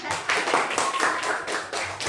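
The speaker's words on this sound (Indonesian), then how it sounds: "Clap your hand," Students applaud together in a classroom, a dense patter of hand claps lasting about two seconds with a few louder bursts, close and fairly loud.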